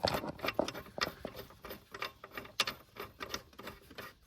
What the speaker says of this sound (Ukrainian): Ось оцей болтик буду крутити.